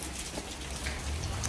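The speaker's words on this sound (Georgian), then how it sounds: "რაცა ასე წვიმს" Steady rain falls in an even, soft hiss of drops hitting a surface, continuous and unbroken for the whole stretch with no voices.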